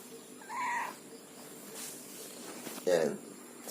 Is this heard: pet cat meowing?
yes